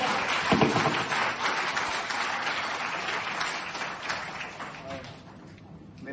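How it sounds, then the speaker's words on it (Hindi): A crowd applauds with sustained, dense clapping that slowly tapers off at a taekwondo association event, while a voice speaks faintly underneath. "जोरदार तालियों से स्वागत है।"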